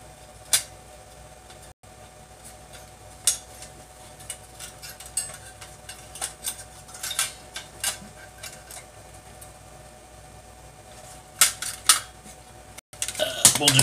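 Screws being driven into the metal shield of a SNES console, heard as scattered faint metallic clicks and taps, some sharper clinks near the start and end, over a quiet room hum.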